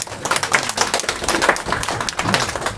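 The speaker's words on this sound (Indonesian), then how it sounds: "Tepuk tangan dong." A room of people at an Indonesian organisational meeting clapping hands, a busy, fairly close patter of claps running steadily throughout.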